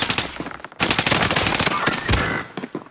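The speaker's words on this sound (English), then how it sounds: "I am under fire." Rapid automatic gunfire from a video game, loud bursts and rattling volleys in dense clusters with a brief gap, continuing almost throughout.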